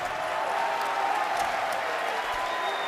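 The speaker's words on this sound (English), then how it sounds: "Now they're clapping." Dense, steady applause from a large crowd at an esports tournament, loud and sustained throughout with a few sharper claps standing out and no pause in the clapping.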